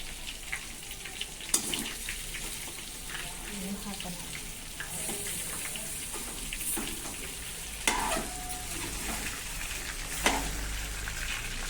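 Brinjal stir-frying with masala in a pan, sounding as a continuous close sizzle broken by occasional sharp knocks and scrapes of a stirring utensil against the pan.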